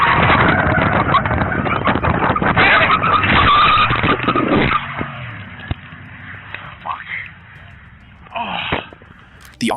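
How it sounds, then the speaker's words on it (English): A police car speeds and skids during a high-speed chase, with loud screeching tires for several seconds, then the engine noise fades into quieter background sounds. "She was pursued by several cops in a high-speed chase that lasted over 75 miles."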